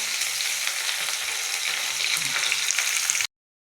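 Stuffed okra fries in hot oil in a home kitchen, a loud, steady crackling sizzle close up that cuts off abruptly near the end.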